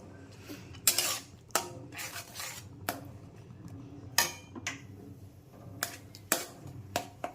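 Ginger and tomato masala being stirred in a pan on medium flame, heard as repeated sharp scrapes and clinks of a utensil against the pan at an uneven rhythm over a low background, with no talking.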